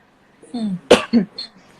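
A single short, sharp sneeze bursts out between brief vocal sounds, close and fairly loud.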